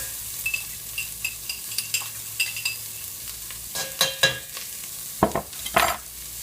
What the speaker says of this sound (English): And we're going to get the onions sizzling right away.